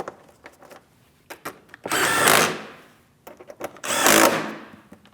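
Power tool snugging bolts on a front fender shield of a 2016-2025 Chevrolet Malibu: two loud, close bursts of whirring, each about a second long, separated by quieter clicks and handling noises.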